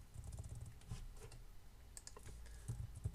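Quiet, close keystrokes on a computer keyboard as a file name is typed, coming in uneven clusters with brief gaps and no speech.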